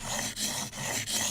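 A blade being sharpened on 220 grit abrasive, heard as close, steady rasping strokes in a repeating back-and-forth rhythm, with brief dips between each pass.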